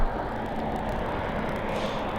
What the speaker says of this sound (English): Just waiting for our next departure now to grace us with its presence on runway